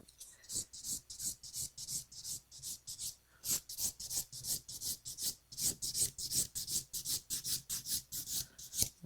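A file rasps rhythmically along a long, high-arch almond-shaped artificial nail, its quick back-and-forth strokes close and crisp, repeating in a steady pattern with short pauses.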